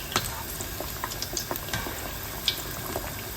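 Thai fish cakes made from clown featherback deep-fry in hot oil, a soft steady bubbling crackle with scattered sharp pops and spits close by.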